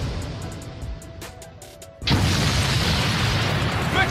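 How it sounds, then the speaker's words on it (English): An anime explosion effect hits suddenly after a quiet stretch, becoming a loud, sustained roaring blast with a dense rumble that carries on to the end. "Explosion!"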